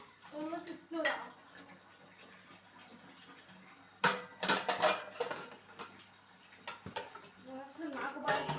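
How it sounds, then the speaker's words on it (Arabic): Plates and dishes being washed quickly one after another in a kitchen sink, with clinks of crockery and cutlery and splashing water coming in bursts, under someone talking in Arabic. "ايوه عشان زي ما بنغسل الطبقين بطبقين كده ورا بعض كده ونخلص بسرعة"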